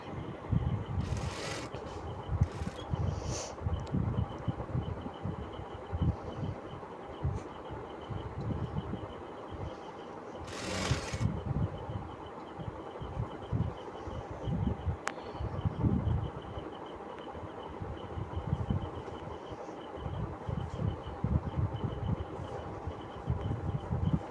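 A sewing machine stitching a 40-inch blouse runs in a fast, continuous rhythmic whir with slight pauses and a few sharp clicks, heard close and fairly quiet without any talking.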